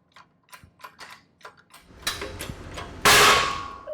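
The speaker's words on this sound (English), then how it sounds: "found the right adapter so we can press out the flange" A press pushes a hub flange out of a Mazda Protegé knuckle: a string of faint metallic ticks and clicks builds into grinding creaks, then a loud sharp crack as the flange breaks free.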